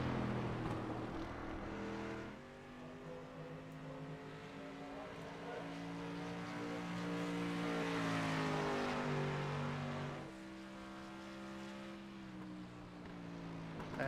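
Stock car engine from the iRacing sim racing game, a loud sustained drone with rising and falling pitch as the car circles Richmond Raceway, with a brief dip in the engine note near the start.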